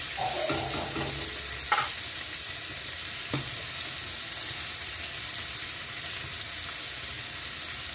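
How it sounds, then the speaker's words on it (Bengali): Spice paste with turmeric and salt fries in plenty of oil for a rohu roe chorchori with Malabar spinach. It gives a loud, steady sizzle, with a few stirring clatters near the start and no voices. "মশলাটা একটু কষাতে হবে।"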